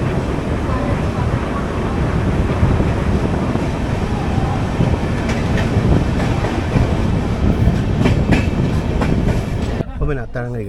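The Coimbatore - Hisar AC Express rumbles along at speed with a continuous loud roar and rhythmic clickety-clack of wheels on rails, heard from inside the moving train with wind noise.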